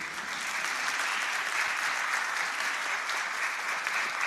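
A church congregation at a worship service applauds in a continuous, dense wave of clapping, loud and unbroken throughout.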